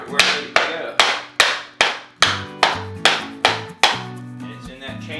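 Laminate flooring board knocked into place, about ten evenly spaced sharp knocks, close and fairly loud, each with a short decaying ring.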